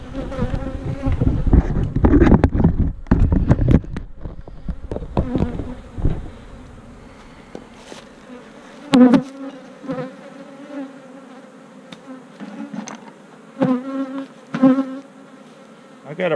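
Honeybees buzzing around a hive frame, a close, droning hum that swells as individual bees pass near, with occasional knocks and handling noises.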